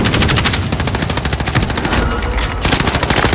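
Rapid, loud automatic gunfire in the video game Call of Duty Warzone, a dense continuous stream of shots with a brief lull before bursting again, close and overwhelming.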